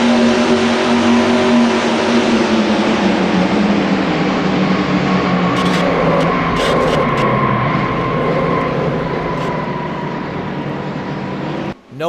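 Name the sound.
multi-car crash at Daytona 500 in NR2003 racing video game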